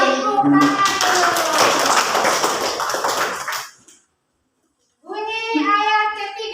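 Students in a classroom clap hands in a lively, dense burst that fades out, followed after a short silence by a voice speaking.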